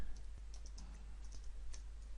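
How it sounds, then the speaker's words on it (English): Quick light clicks of a computer keyboard being typed on during spreadsheet work in Excel, a soft irregular patter of keystrokes close and alone. "I can just start typing"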